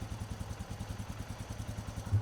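Polaris Sportsman 450 ATV (2021 or later) idling on a trailer, a close, steady low putter with rapid regular engine pulses and a faint mechanical clatter, heard alone.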